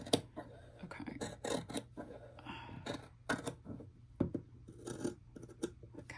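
Scissors cut along the stitch line of a sewn A-line dress, giving a close, crisp series of snips and rasping blade strokes in an uneven rhythm, with no voice over them.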